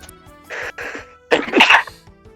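One close sneeze, preceded by two short sharp intakes or catches of breath and then a louder burst, heard alone during a tabletop game session.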